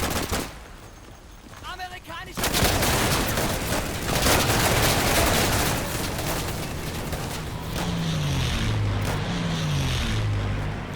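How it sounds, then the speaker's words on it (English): An American strafing gun run in Day of Infamy tears through as a long, dense roar of rapid fire and blasts, loud and sustained, with an aircraft-like drone and sliding engine tones toward the end. "So that was an American gun run."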